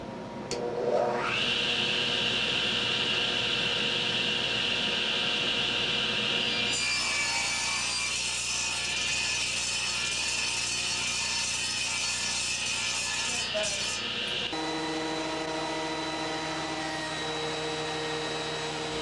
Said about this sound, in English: has safely learned how to use a radial arm saw